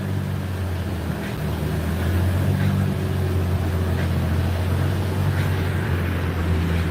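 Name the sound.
car engine running on an outdoor dyno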